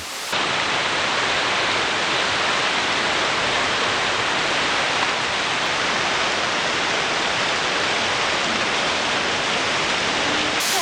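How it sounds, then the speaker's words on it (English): Florida's highest waterfall pours in a steady, dense rush of falling water, close and continuous with no voices over it. "Here is the highest waterfall in Florida."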